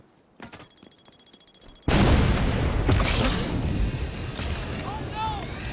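A grenade detonates in a video game as a loud, sudden boom that cuts off a rapid ticking beep, leaving a dense roaring wash of debris and gunfire under continuing combat noise and talking players.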